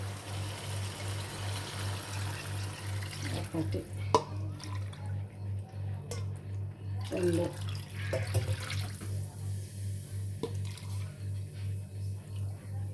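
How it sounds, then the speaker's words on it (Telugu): Water pours into a cooking pot while upma is being made, making a soft gurgling splash under a steady low hum. A woman counts aloud as it runs, with a few clinks of utensils. "ఇప్పుడు నేను నీళ్ళు అయితే పోస్తున్నాను."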